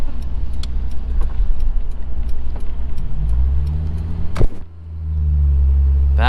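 A 2000 Honda S2000 drives along with a steady low engine rumble and road noise, a brief sharp clunk near the end as the engine note dips, then the drone builds again; no talking.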